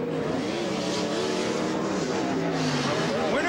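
Stock cars racing around a track, engines roaring in a steady loud drone with pitch shifting as they push through a corner, close up, under an excited commentator's voice.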